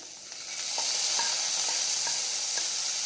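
Soaked chana dal hitting hot oil for a tempering, giving a steady bright sizzle with a few soft stirring taps from a utensil, close and even throughout.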